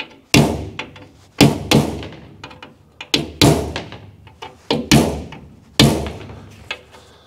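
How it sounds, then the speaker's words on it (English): Rivets being knocked out of a window panel on a Knight Rider KITT hauler trailer, sharp metallic hammer blows at irregular intervals, each ringing briefly, close and loud with no talking. "So this is the fun and easy part where I just knock out all of the rivets."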